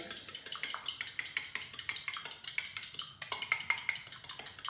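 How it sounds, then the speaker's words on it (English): A fork whisks raw eggs in a bowl, producing rapid, even clinks and scrapes in a steady rhythm, close and clear with no talking. "We simply take a fork, give it a bit of a scramble."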